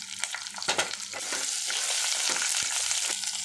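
Chopped onion pieces fry in hot oil alongside red chillies, chana dal, garlic and tamarind for a chutney, a dense hissing sizzle swelling and holding steady after a few clinks and stirs near the start, with no talking.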